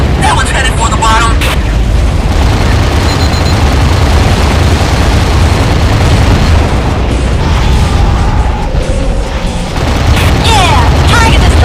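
Explosion of a destroyed target in the underwater game AquaNox, a loud, sustained rumbling blast filling the whole stretch, with voices talking over it.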